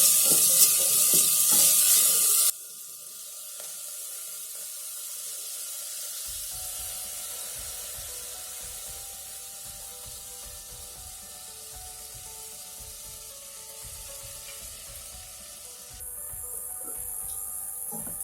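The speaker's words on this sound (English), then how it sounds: "Now I am going to add soaked basmati rice." Soaked basmati rice goes into a hot pan for jeera rice and sizzles: a loud hiss at first, then a softer, steady frying crackle with faint scraping of stirring, swelling again near the end.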